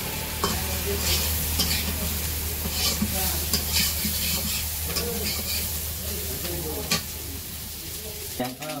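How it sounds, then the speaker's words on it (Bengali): Puti fish fries in oil as onion and green chili are stirred in, making a loud, continuous sizzle with repeated spatula scrapes, close up, with a sharper clatter at the end. "ওই যে এখন আবার পেঁয়াজ মিশাইতেছে"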